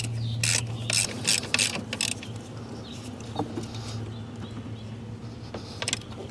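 Ratchet wrench working the nut on a new alternator for a 2004 Land Rover Discovery, fast bursts of ratcheting clicks close up in the first two seconds, then sparse metallic taps and light handling noise.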